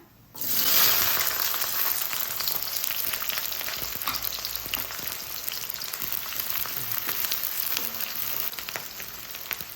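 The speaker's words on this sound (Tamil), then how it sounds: "சின்ன வெங்காயம் கட் பண்ணி வச்சுருக்கேன் சின்ன வெங்காயம் சேர்த்துக்கிறேன்" Small shallots drop into hot oil with cinnamon and bay leaf in a pan, bursting into a sudden loud, close sizzle that continues steadily with crackles for several seconds.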